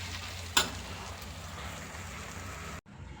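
Tomato pickle simmering in a pan on a medium flame, a soft steady sizzle and bubble with one brief clink near the start before the sound cuts off abruptly.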